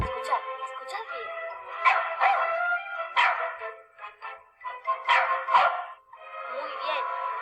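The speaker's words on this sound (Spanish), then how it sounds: "Este es el ladrido del mejor amigo del hombre, el perro." A dog barks repeatedly in short bursts, a string of sharp, close barks with brief pauses between them, heard alone with no talking.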